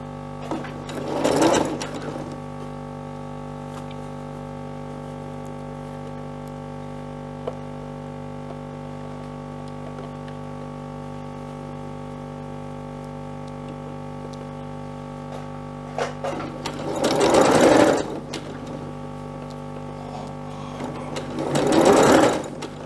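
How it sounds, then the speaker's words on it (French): A sewing machine stitches a sleeve seam under the arm in three separate bursts, each whirring for a couple of seconds, near and loud over a quiet steady hum in between. "Et donc je vais coudre petit à petit."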